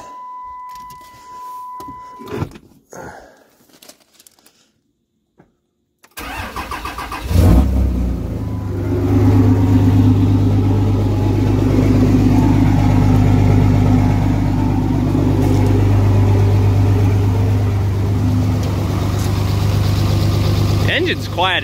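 After a few faint clicks and rustles and a short silence, a diesel truck engine with freshly adjusted valves cranks, catches and settles into a loud, steady idle that runs close by for the rest of the clip.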